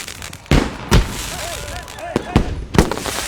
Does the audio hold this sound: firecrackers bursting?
yes